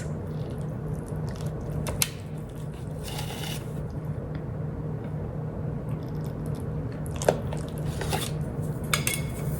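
A slice of cranberry-glazed Christmas wreath meatloaf is served onto a dish, bringing soft scraping and squishing along with occasional sharp clinks of metal utensils against the plate, all close by.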